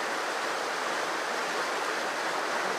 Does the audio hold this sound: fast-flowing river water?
yes